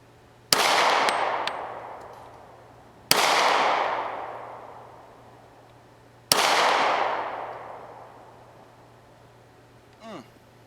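Three Taurus PT 24/7 G2 pistol shots at a steel plate about 25 yards away, spaced a few seconds apart, each a sharp loud crack followed by a long, slowly fading metallic ring from the struck target.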